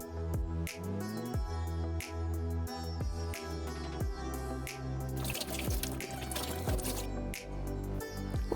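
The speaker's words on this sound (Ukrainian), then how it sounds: "Заливаємо холодну воду і гарно промиваємо огірки." Cold water runs and splashes over cucumbers being rinsed in a jar for lightly salted pickles, with bright drips and trickles over a steady low hum, close and moderately quiet, no talking.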